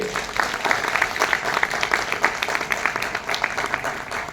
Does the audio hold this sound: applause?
yes